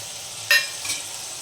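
Leftover garlic-chili paste tipped into hot oil in a pan for a stuffed eggplant and potato curry, a sudden close sizzle bursting out and then fading, with a second smaller hiss shortly after.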